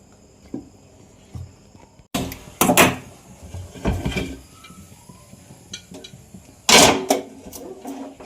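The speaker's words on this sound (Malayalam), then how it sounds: "നമ്മൾ നമ്മളിതൊന്ന് അടുപ്പേ വെക്കട്ടെ" A large pressure cooker for jackfruit seed payasam is set down on a kitchen stove, giving several close metallic clunks and knocks with quiet gaps between them and no voices.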